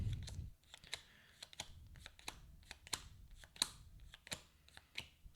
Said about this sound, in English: shuffle the remaining item cards